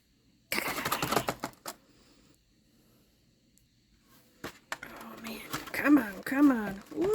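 Snips crunch and clip through plastic doll packaging in a quick burst of cuts, then a quiet pause, then more cutting mixed with someone talking and cheering.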